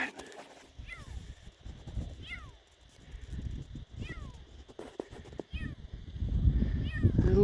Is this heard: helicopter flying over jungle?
no